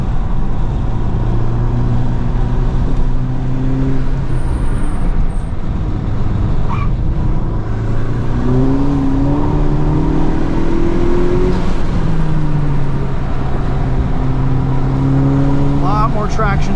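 A 2023 Honda Civic Type R FL5 on FK460 all-season tires runs a flooded track, its engine droning and rising through gears in continuous near cabin noise with spray hiss, while a person talks over it.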